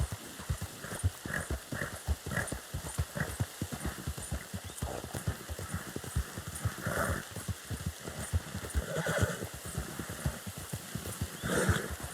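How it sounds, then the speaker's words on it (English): Steady clip-clop of horse hooves with repeated neighs and whinnies in the video game Red Dead Redemption 2, fairly close and continuous, no talking. "Who's a good horse?"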